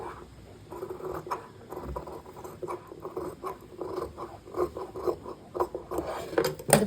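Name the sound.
cutting fabric neck piece with scissors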